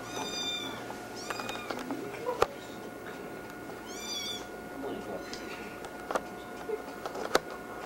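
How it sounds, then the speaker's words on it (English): Several high, thin meows from two kittens come and go over a busy indoor background with occasional sharp clicks and taps. "Two are very, very silly kittens."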